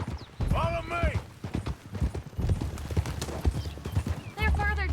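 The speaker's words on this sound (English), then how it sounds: "Okay, get on your horse." Horse hooves clop and gallop in the video game Red Dead Redemption 2, a busy rhythmic beat near the listener, with a whinny and people talking over it.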